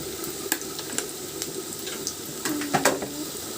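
Onions sizzling with salt in a frying pan for an Assamese sour fish curry, a steady close crackle with a few sharper pops and a brief hiss near the end, no talking.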